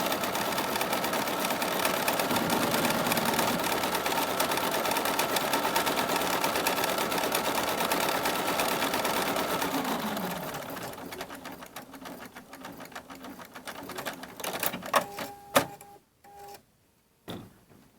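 An embroidery machine runs a continuous, rapid stitching of a fabric placement line for about ten seconds, close and steady, then slows into scattered clicks and whirs before stopping.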